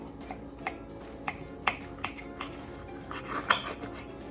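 Knife and fork clink and scrape on a plate while cutting a French toast breakfast sandwich with bacon and cheese omelet, with a series of close, light metallic taps and clicks at an uneven rhythm and no speech.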